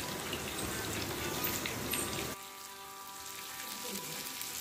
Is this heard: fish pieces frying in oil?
yes